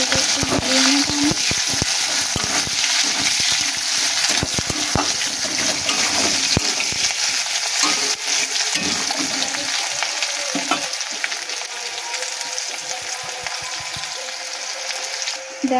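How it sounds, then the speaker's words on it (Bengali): Chopped onion sizzles in hot oil in a pan, stirred now and then with a spatula; constant loud frying hiss runs throughout, with scraping clicks from the stirring and no talking. "পরিমাণ মতন পেঁয়াজ কুচিটা দিয়ে পেঁয়াজটাকে একটু নাড়িয়ে নেব আমি।"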